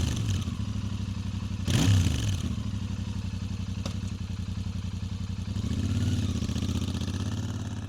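A Royal Enfield Interceptor 650 on its stock exhaust revs while stationary toward about 3,500 RPM, a loud, close, throbbing parallel-twin idle that swells into a couple of revs before settling back.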